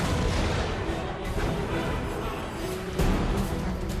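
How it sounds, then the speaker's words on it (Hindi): A heavy, rumbling wartime blast in Kharkiv, Ukraine, fills the air with broad roaring noise, and a second sharp boom hits near the end. "यूक्रेन के खार्किव में जोरदार धमाका हुआ"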